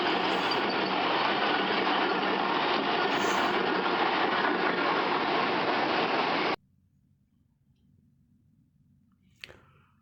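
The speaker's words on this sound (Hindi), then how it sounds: "ये गुजरांवाला पर जाफर एक्सप्रेस में क्रॉस करने लगी थी और इसकी लीड पे 83 बाई था, fantastic locomotive of PH820 series" The Jaffar Express, led by a PH820 series locomotive, passes while crossing at Gujranwala in Pakistan, a loud, close rushing roar that holds for over six seconds and cuts off abruptly into near silence with one faint click.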